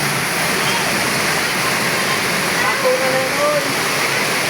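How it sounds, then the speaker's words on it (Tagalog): Heavy rain pours steadily as a dense, even roar that masks everything, with voices faintly audible beneath it. "Inabot na kami ng uran."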